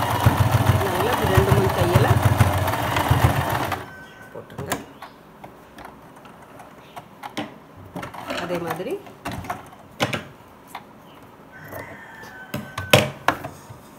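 A sewing machine runs steadily for about four seconds while stitching a fabric pillow cover, then stops, leaving faint handling clicks and soft taps.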